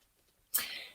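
A single sharp sneeze bursts out about halfway through, loud and close, with a short breathy tail after a quiet lead-in.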